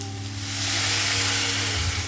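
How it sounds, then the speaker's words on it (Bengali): Water poured into hot spiced oil for a boal fish curry sets off a loud, steady hissing sizzle that swells within the first second and holds close and continuous. "এইবার এই অবস্থায় দিয়ে দেবো পরিমাণ মতো জল।"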